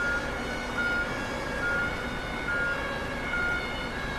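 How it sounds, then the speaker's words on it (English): A police car siren wails steadily in traffic, heard at a moderate distance beneath a constant wash of road and engine noise, with no talking. "Here comes the police."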